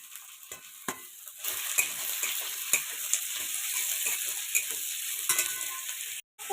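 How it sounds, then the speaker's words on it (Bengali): Chopped onions fry lightly in oil in a pan, a steady soft sizzle broken by occasional spoon clicks and stirring scrapes, close and moderately quiet. "পেঁয়াজগুলো একটু হালকা করে ভেজে নিতে হবে, বেশি ভাজার দরকার নেই।"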